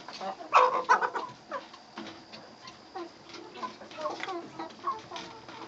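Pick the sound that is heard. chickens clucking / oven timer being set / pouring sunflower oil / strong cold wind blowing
chickens clucking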